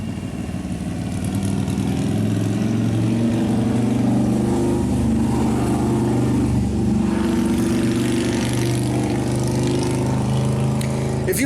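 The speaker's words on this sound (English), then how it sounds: "let me let this motorcycle pass real quick" A motorcycle engine drones loud and steady nearby, its pitch climbing slightly then easing as it passes, with no talk over it.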